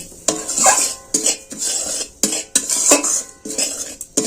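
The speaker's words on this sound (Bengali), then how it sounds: "এবার আমি সুজি দিয়ে দিচ্ছি দিয়ে আমি অল্প নাড়াচাড়া করে ভেজে নেব" Semolina stirred and fried in melted ghee in a pan gives rhythmic, close scraping strokes about twice a second, each a gritty swish of spoon against metal, with only a slight sizzle beneath.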